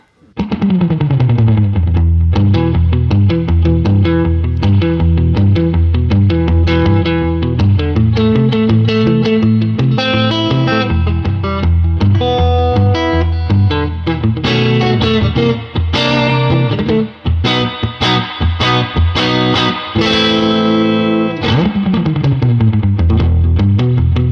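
Electric guitar played through a 1990 Fender Vibrolux Reverb amp with reverb on, ringing chords and busy riffs sounding loud and continuous throughout, with sustained tails at the end.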